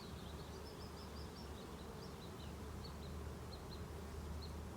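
Steady, dense buzzing of many honey bees close by in a hive, a continuous drone with faint higher chirps scattered over it.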